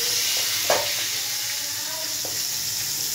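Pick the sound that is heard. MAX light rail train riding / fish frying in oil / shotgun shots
fish frying in oil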